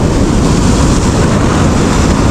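Strong ocean waves surge at a Palawan light-fishing spot in drizzly weather, a loud, continuous broadband wash with wind rumble that never lets up.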